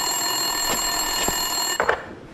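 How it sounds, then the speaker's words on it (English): In the Max Payne 2 police headquarters, a desk telephone rings with rapid electronic trills over a steady tonal background hum, followed by a couple of brief clicks near the end. "Winterson's phone was ringing."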